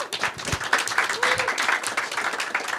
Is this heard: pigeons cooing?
no